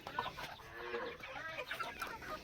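Desi chickens kept in a small backyard space cluck and murmur in overlapping bursts, fairly faint and close, with no talking over them.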